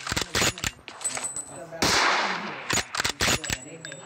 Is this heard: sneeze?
no